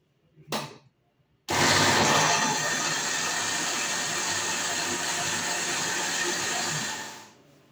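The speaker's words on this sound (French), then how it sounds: "maintenant là on va couvrir pour le blender" Countertop blender running on juice with water, one short burst, then a loud, steady whirring roar that holds for about six seconds before cutting off.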